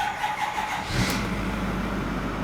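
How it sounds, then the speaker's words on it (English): Ford F-250 pickup with a 6.4L diesel engine cranking and catching, followed by a steady low idle rumble that continues to the end after a brief higher whine at the start. "Now let's turn the truck on, turn the ignition to the on position, wait for the glow plugs to cycle"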